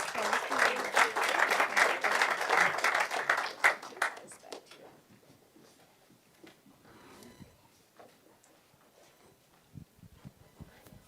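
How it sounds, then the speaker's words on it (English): An audience at a city council session breaks into a dense round of applause that swells for several seconds, then thins to scattered claps and fades into quiet room noise. "Let's give them a round of applause,"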